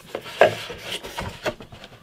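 Chisel squaring off wood corners on a guitar neck joint, a series of short scraping cuts and taps, close and fairly crisp, with brief pauses between strokes.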